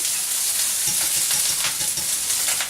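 Goetta sausage crisping in a hot pan, a steady loud sizzle and crackle with brief stirring scrapes, no voices.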